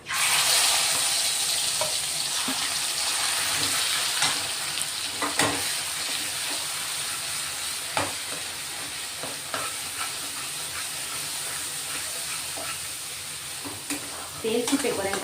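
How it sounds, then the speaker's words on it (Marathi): Ground wet masala paste fries in hot oil with hing for a spicy matki curry, a continuous sizzle broken by repeated spoon scrapes and stirring knocks against the pan. "तेल सुटेपर्यंत आपण हा मसाला ना परतून घेणार आहे"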